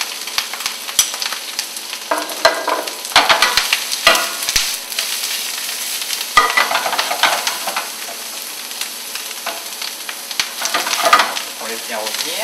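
Button mushrooms and chanterelles being sautéed in a pan in a chef's kitchen, giving a steady, close sizzle with bursts of stirring and tossing clatter.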